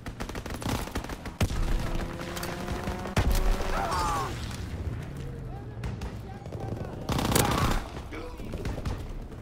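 Fighter plane strafing run in the World War II shooter Call of Duty: WWII, with bursts of rapid machine-gun fire and a roaring sweep amid battlefield noise, while voices and game callouts talk over it.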